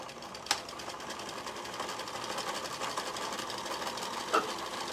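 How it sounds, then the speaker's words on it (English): A sewing machine stitches a quarter-inch seam around a fabric napkin, running steadily for several seconds, its rapid stitching hum constant, with a couple of sharp clicks. "I'm going to sew a 1/4 inch seam all the way around"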